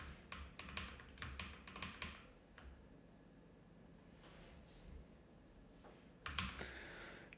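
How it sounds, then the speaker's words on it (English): Typing on a computer keyboard during a game jam work session, with bursts of quick clicky keystrokes at the start and end separated by a quieter pause, fairly close and with no talking. "Trying to figure out how to use this keyboard"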